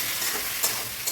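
Ground spice paste sautéed and stirred in a pan while cooking a fish curry with cauliflower and potato; a soft, quiet sizzle with a couple of brief stirring scrapes, close by.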